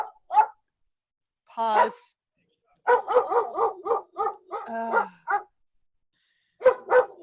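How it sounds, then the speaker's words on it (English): A dog named Norman barks in short bursts, a single yap, then a rapid volley of barks and a few more near the end, close and clear against silence. "There's my dog."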